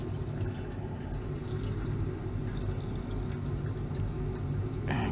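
Freshly boiled hot water is poured into a copper-bearing solution while inquarting gold, making a steady, continuous rushing pour of liquid with a low rumble, unbroken for about five seconds.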